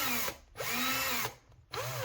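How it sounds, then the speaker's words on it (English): A Bosch cordless drill whirs loudly in reverse while its chuck jaws widen, in three trigger pulls separated by brief pauses, with the motor pitch rising and falling on each pull. "when you hold the trigger, you can see the jaws of the drill widening."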